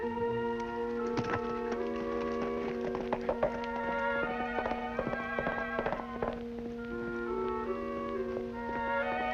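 Horse hooves clip-clop in a quick uneven rhythm of sharp taps beneath a steady sustained musical score, with a brief neigh-like sound, in an old Lone Ranger western episode.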